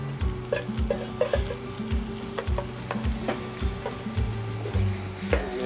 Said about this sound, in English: now that the garlic is nice and golden brown,